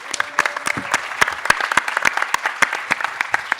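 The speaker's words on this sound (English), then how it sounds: "give them a round of applause" Scattered, distinct claps from a modest conference audience thanking the organizers, individual hand claps audible within a light round of applause lasting a few seconds, fairly close.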